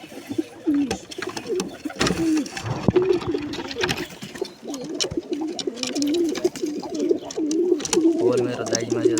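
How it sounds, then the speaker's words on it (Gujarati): Wild pigeon chicks in a nest, with soft, low, repeated cooing close by, continuing under light rustling and handling noise. "જંગલી કબૂતરનું બચ્ચું છે અહીંયા."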